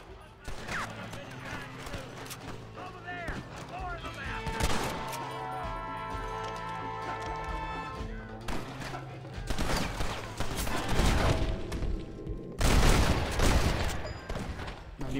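Gunfire from the Red Dead Redemption video game comes in bursts and volleys over about fifteen seconds, with one loud cluster near the end and someone speaking German between the shots.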